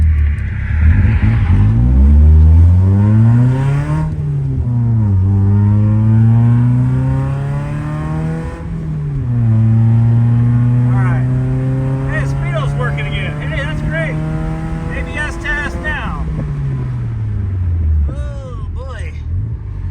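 A BMW E30 engine roars and revs through several rising and falling sweeps during a hard braking ABS test on a first drive, loud and close, with a person exclaiming and talking over it.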